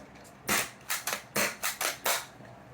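A Mag-Fed Deuce Pro foam blaster fitted with a swapped barrel fires seven snappy, fairly loud shots in quick irregular succession, each a crisp pop with a short tail, and no talking.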